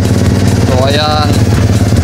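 A repaired Kawasaki Barako motorcycle engine runs steadily at close range, a loud continuous chugging idle with a brief rising whine in the middle.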